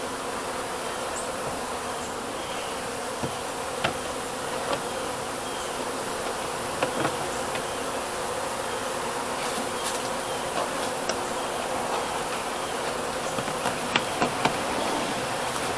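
Honeybees swarming around a deer feeder hum in a steady, dense buzz that carries through the whole stretch, close and even, with faint scattered knocks and no talk.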